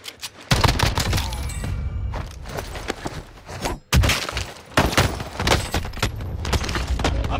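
Gunfire from the Call of Duty Vanguard and Warzone video games: dense, sustained bursts of shooting that fill most of the clip, with sharp breaks and fresh volleys, loud and close.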